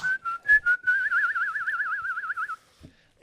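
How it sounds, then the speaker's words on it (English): A person whistles a melody alone, clear and near, with a few short notes before a long, wavering vibrato-like passage, then stops and leaves near silence. "Isn't it beautiful when someone can whistle like that?"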